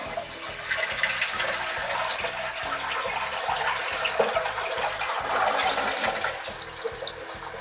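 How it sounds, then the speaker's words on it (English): A Japanese toilet in a small Ōsaka apartment flushes, then its tank refills through the tap on top, a steady rushing splash of running water that continues for several seconds at close range. "So if you flush the toilet,"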